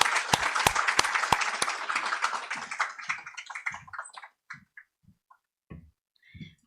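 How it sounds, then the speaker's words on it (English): A conference audience claps a round of applause after a vote of thanks, dense and loud at first, then thinning into scattered individual claps that trail off over several seconds. "I would like to request all of you to kindly carry out the vote of thanks with a round of applause."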